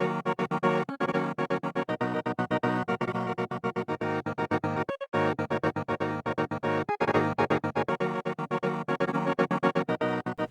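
A chopped vocal sample, pitched down an octave, repeats in a choppy triplet pattern, loud and dense, with brief gaps where the sound cuts out.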